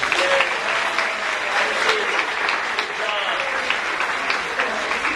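Classroom applause for students after a melodrama performance, a steady wash of clapping from a small group with some voices mixed in.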